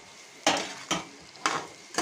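Potato chips frying with chopped onions on a griddle, a low sizzle punctuated by four bright scraping stirs of a utensil spaced roughly half a second apart, close and clear with no talking.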